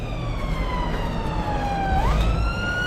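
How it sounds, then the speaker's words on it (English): A passing ambulance siren wails near a landfill, a loud sustained tone that sweeps downward and then jumps back up as the vehicle goes by, over traffic rumble. "It's not the Rozzers, it's an ambulance, it's an ambulance."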